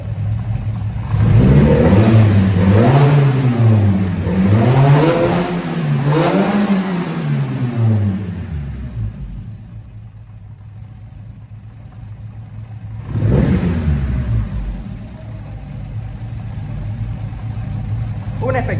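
A Fiat 147 engine with a newly changed carburetor revs up and down in several rising and falling swells, then settles to idle and gives one more short rev, loud and close.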